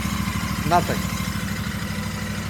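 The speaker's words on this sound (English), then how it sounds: "And that's a cold throttle response." A car engine idles steadily nearby, ticking over smoothly with a brief throttle blip partway through before settling back to idle; a voice speaks briefly over it.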